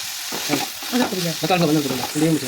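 Tomatoes frying in a pan while being stirred and mashed for a chicken butter masala, a steady close sizzle with repeated scraping and squelching strokes.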